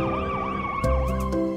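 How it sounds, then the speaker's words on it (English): An ambulance siren wails in a cycling up-and-down pattern, loud and close, with a brief low rumble and a few sharp bursts toward the end. "A. Ambulance."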